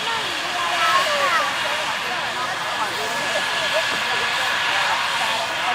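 An air ambulance at a staged road traffic collision rescue during the Bristol International Balloon Fiesta gives off a steady, loud aircraft roar and hiss that holds throughout, filling the scene outdoors.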